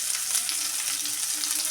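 Chopped onion fries in hot oil with mustard seeds and curry leaves for a paneer pepper fry. A loud, steady, close sizzle runs without a break and with no talking.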